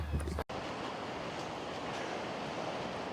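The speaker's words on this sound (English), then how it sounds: "excuse the wind if it's picking it up bad." Offshore coastal wind buffets a microphone on a walking trail, a loud, steady roaring rumble that fills the whole stretch after a brief handling knock near the start, with no voices.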